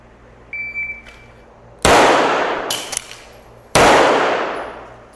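Two sharp, loud pistol shots from a CZ Shadow 2 fired during a reload drill, about two seconds apart, each with a long decaying echo, preceded by faint clicks of handling.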